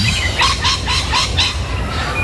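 Calls of large and smaller gulls repeat in a steady series of about five squawking calls, carried over a constant low rumble of background noise.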